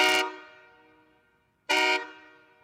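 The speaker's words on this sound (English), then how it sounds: "This is the Outlaw 228 train horn kit. A little bit smaller." An Outlaw 228 train horn kit gives two loud, brassy blasts, each about a quarter second long with a ringing decay. The blasts are close together and sound with no talk.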